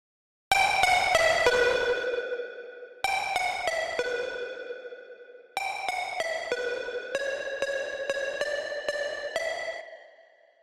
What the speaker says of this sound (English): So a tiny amount of distortion can help sounds like this cut through the mix.